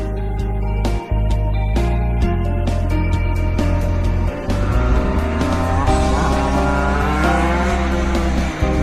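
A Mini GP motorcycle with a 50cc 14 horsepower engine runs loud and close, a steady high-revving drone with rising pitch and two brief dips in sound.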